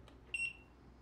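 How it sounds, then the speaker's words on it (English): A digital multimeter on its continuity setting gives one short, steady electronic beep as its probe tips touch, clear and alone over faint background hiss. "When you touch the probe tips together, the alarm will sound, and it's pretty instantaneous."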